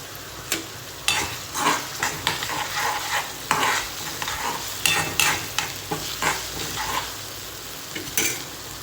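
Onion fries and sizzles in a pan while a spoon stirs it, producing steady sizzling with repeated scraping strokes at a close, even level.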